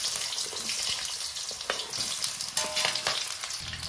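Potato pieces frying in hot oil with nigella seeds for a capsicum stir-fry, a steady close sizzle with crackles and a few stirring scrapes, no talking.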